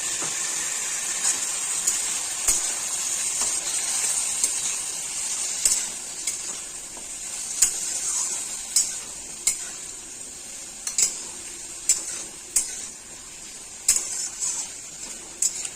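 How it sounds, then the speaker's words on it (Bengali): Pumpkin and Malabar spinach frying with ground ginger, cumin and dried chilli paste in a pan, a steady bright sizzle under a run of regular spoon scrapes and taps against the pan. "মশলা দিয়ে সুন্দরভাবে মশলার সাথে মিষ্টি কুমড়া আর পুঁই শাক ভালো করে কষে নিব।"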